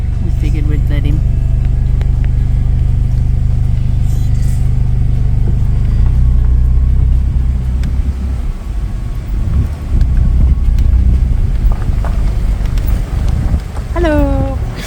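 A car drives slowly along a dirt road near a campsite, its low engine rumble and wind noise steady throughout, with people talking over it and a small dog aboard.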